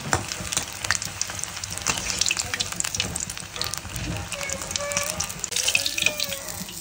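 Egg bajji frying in hot oil, a steady crackling sizzle of medium loudness with some clinking and splashing over it and no speech.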